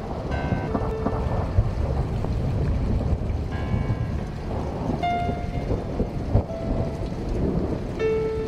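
Rolling thunder and steady rain from a thunderstorm in the video game The Cat Lady, a continuous loud rumble with a few sharper cracks, layered with faint tonal game music.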